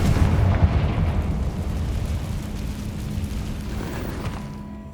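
Fiery spell blast from the Confringo curse in Hogwarts Legacy, a loud rumbling explosion that booms at once and then slowly fades into a low sustained drone.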